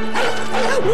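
Puppies in a Disney movie trailer featuring Cruella de Vil yip and bark loudly in a quick burst of high, whining yelps that fill the moment.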